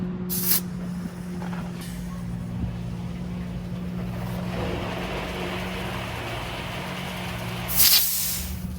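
Air compressor blowing a steady hiss of air through a garden hose to clear it, with a constant low motor hum beneath and short bursts of louder air at the start and near the end.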